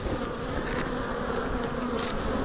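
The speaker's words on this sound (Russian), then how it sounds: "Так, Антоха, ты пришел, чтобы тебя пчелы сейчас погоняли тут?" Honey bees hum in a dense, continuous buzz close around an open hive at an apiary, a steady swarm sound with no voices.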